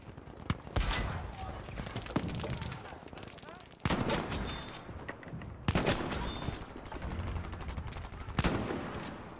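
Gunfire in a modern military shooter game, repeated sharp bursts and volleys of rifle shots in irregular clusters, loud and near, with a voice talking faintly beneath.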